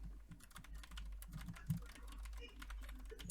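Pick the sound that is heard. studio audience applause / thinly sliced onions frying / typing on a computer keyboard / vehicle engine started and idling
typing on a computer keyboard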